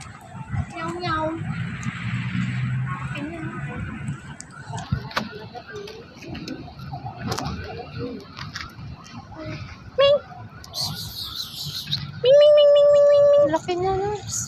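A house cat meows a few times amid people chatting and children's voices in a busy room, with a sharp electronic beeping near the end.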